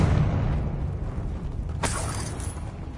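A Confringo blasting spell goes off in Hogwarts Legacy on PS5, a sharp burst cutting through a steady low rumble of game ambience, with a brief crackling tail after the hit.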